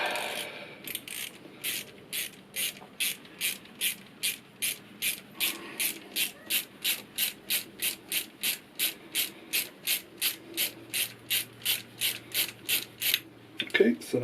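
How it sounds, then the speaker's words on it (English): A ratchet fitted with a Torx bit backs out a brake pad pin on a Honda VFR 750 motorcycle, producing a steady series of sharp, close clicking bursts with each swing of the handle. "So I have my little Torx head on my ratchet, and you can see here there's the little pad pin"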